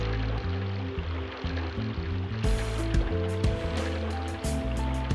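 Stream water flows past an old mill in Mühlhausen with a continuous, fairly close rushing and gurgling. Layered tonal machine hums and knocks run underneath the flow.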